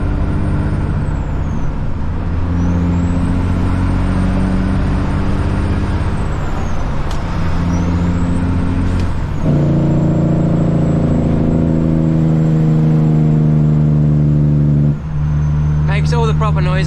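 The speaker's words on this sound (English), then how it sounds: "It's got a C-15 cat motor in it. That's why it sounds delicious." Heavy truck cab with a Caterpillar C-15 diesel engine, a loud steady droning rumble with pitch shifting through gear changes, a brief air brake hiss near the end, and someone talking over it.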